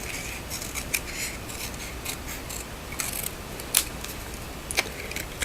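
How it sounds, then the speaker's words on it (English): Scissors snip along a scored line in paper while making a mini Halloween tote with an envelope punch board, giving a run of close, crisp cuts and small rustles. "I just use that as a guide and cut along here"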